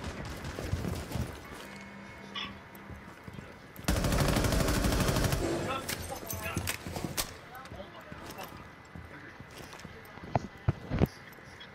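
Rapid bursts of gunfire in the tactical shooter Rainbow Six Siege, shots fired through a floor and wall, a sustained loud volley in the middle with scattered sharp single shots before and after, under game noise.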